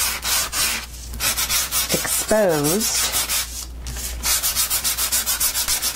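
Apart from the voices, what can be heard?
sanding block rubbing cardstock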